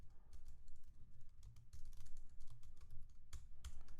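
Rapid keystrokes on a computer keyboard clatter in quick irregular bursts, close and fairly quiet over a faint low background hum.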